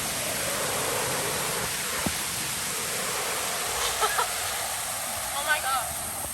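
Water runs steadily from an outdoor fountain in the Alps, a constant hissing splash close by, with faint voices and a few brief sounds over it.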